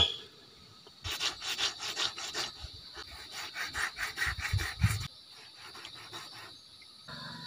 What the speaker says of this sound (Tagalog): guys kukuskusin para matanggal yung ito, tingnan mo. Matanggal tong yung kaliskis ito.